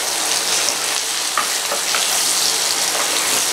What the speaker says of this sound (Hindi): और अब इसको चला के मिक्स कर लेंगे।